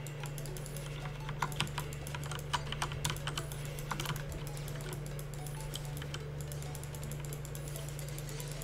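Computer keyboard keys clatter in quick, uneven bursts as commands are typed while a PC game plays, the clicks fairly close over a steady low hum of background music.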